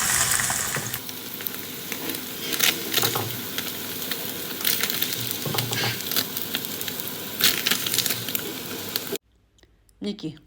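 Halloumi cheese frying in a pan, a close sizzle and crackle with scraping and clicking as pieces are turned, running steadily for about nine seconds before cutting out to near silence.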